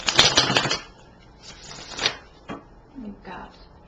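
Tarot cards shuffled by hand during a reading, a quick burst of riffling flutters near the start followed by softer, sparse slides and taps of the deck.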